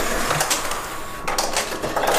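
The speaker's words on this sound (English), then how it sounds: "using his sanitary cup and a very, very loud ice dispenser to put a little bit of ice in our actually sanitized fermenter" Loud ice dispenser dropping a little ice into a cup for a home brew fermenter, a steady whirring, rattling grind with clattering bursts of ice running close and continuous throughout.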